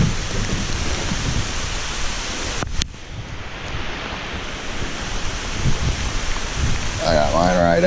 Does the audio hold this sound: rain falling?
yes